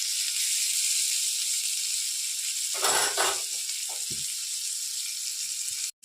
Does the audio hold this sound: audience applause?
no